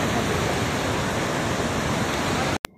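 Charre Marre waterfall near Kanker, with water pouring in a steady, dense roar that fills the whole clip at close range and cuts off abruptly near the end.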